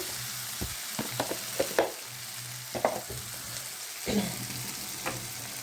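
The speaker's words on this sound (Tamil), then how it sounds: "நல்லா கிண்டி விட்டுட்டு" Carrot chutney being stirred in a frying pan, a spoon scraping and knocking in a few separate strokes over a faint, soft sizzle. The sound is close and quiet.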